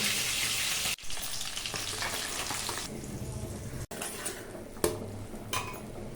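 Bhetki fish pieces fry in a hot pan, giving a close, steady hiss and sizzle broken by clatters of a utensil against the pan, with no voices.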